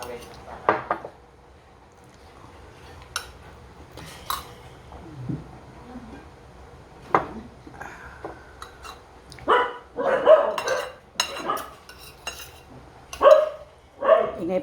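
A dog barks several times, near and sharp, among clattering dishes and cutlery, with people talking intermittently.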